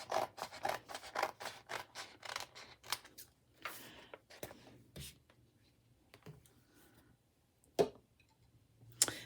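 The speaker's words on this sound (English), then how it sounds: "I'm just going to cut off the excess vinyl so I can save that" Scissors snip through excess glitter heat transfer vinyl in a run of close, crisp cuts, pausing briefly before a few final sharp snips.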